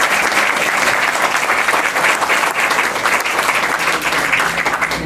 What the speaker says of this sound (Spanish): Saludamos con un fuerte aplauso